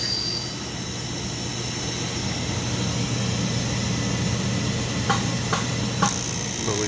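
An HVAC unit's motor, on a no-heat service call in rough industrial conditions, runs with a steady low hum and airy hiss after being spun by hand. A few faint clicks come near the end, and no one speaks.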